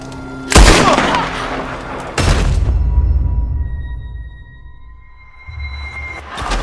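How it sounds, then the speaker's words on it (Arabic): Gunfire in Red Dead Redemption 2: two sharp, loud shots about a second and a half apart, each leaving a ringing tail, with a quieter game ambience in between and a third burst at the end. "بمجرد ما طلقنا مايكا بيل الحنش، على طول على طول دوتش أطلق علينا طلقة"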